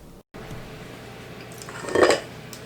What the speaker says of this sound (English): Now I'm fixing to get some cookies in the oven.